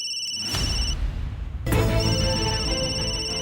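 A phone ringtone sounds in short bursts indoors, a steady electronic tone broken by brief pauses, playing alone without talk.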